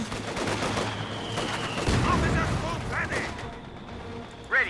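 Sustained suppressing gunfire from infantry in Company of Heroes 2, a dense rattling barrage of shots with booms under a commentator's continuous talk.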